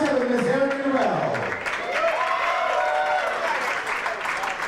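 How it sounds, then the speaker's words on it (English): Steady applause rolls through a pageant hall for a finalist at a national entertainer-of-the-year contest, with a voice talking over the clapping throughout. "Big round of applause for Electra, another one of our finalists."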